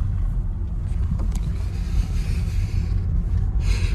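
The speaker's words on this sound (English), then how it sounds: "So yeah, still driving down the track." A car drives along a rough track beside a lake, with a steady low rumble of engine and tyres. Faint rattles and bumps sound on top, and the noise continues throughout.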